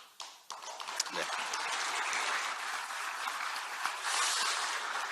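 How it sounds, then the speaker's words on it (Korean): Sustained applause from elected party members at a Minjoo Party assembly, a dense steady clapping that swells near the end and continues throughout without a break. "당선자 여러분들 지금 박수 쳐주는 것은"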